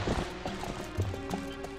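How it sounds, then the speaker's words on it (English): Horse hooves clip-clopping in the video game Legend of Zelda: Twilight Princess, a quick run of close, moderately loud hoof clops over a low background. "It's a horse."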